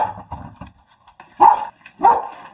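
A dog yips and whimpers close by, then lets out two louder barks a half second apart, with some soft whining in between.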